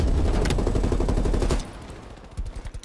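MP5 submachine gun firing in Call of Duty Black Ops Cold War, a loud rapid automatic burst of about a second and a half, then a brief pause and a few softer follow-up shots.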